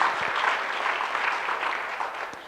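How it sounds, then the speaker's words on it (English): An audience at an Ohio political event claps continuously for a couple of seconds, a dense, steady wash of hands that fades slightly at the end. "give yourself a round of applause"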